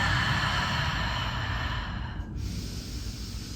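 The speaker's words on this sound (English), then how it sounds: "Big deep breath" A long, deep breath is drawn in during a half bow pose in a yoga stretch, giving a steady, loud breathy hiss close to the microphone that dips near the end.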